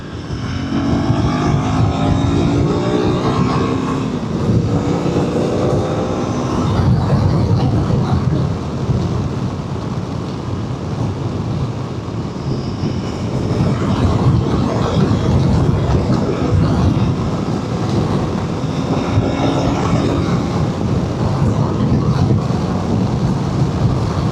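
A 2021 or 2025 KTM 390 Adventure single-cylinder motorcycle engine accelerating on the road, a loud continuous roar of engine and wind that rises and dips through gear changes, with no speech.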